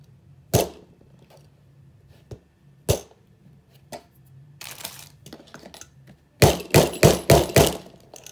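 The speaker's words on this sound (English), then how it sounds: "then I'll hammer it down" Hammer blows on binder hardware set on a board for a book cloth binder, a few sharp isolated knocks at first, then a rapid close burst of four or five heavy strikes near the end, loud and near.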